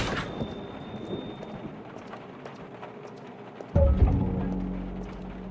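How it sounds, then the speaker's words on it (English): Loud thunderclap in the video game Rue Valley, a sudden heavy boom that strikes partway through and rolls on with a sustained rumble over faint rain-like ambience. "Louder thunderclap strikes"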